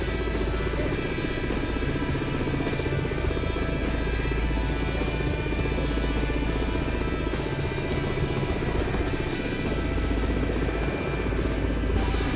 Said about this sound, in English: Nice helicopter.